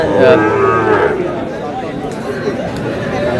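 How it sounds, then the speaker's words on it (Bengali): Sahiwal breed bull at a cattle market giving a deep moo at the start, with crowd chatter and voices murmuring underneath throughout. "শাহিওয়ালের ষাঁড় দুটি।"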